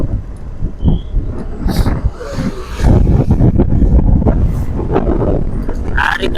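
Strong wind buffeting an open microphone outdoors, a steady loud roar with gusty surges throughout, under faint background voices.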